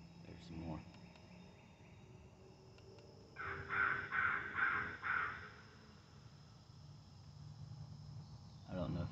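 American crows caw faintly in the distance, a short series of four or five calls over steady insect and cricket hum in open country. Nobody speaks.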